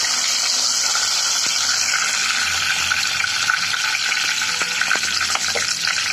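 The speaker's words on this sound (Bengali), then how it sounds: "এলাচ, দারচিনি, লং, তেজপাতা, এবারে একটু ভেজে না ফ্লেভার দিব।" Cardamom, cinnamon, cloves and bay leaves frying in hot oil, a steady, loud, close sizzle that hisses continuously without pause.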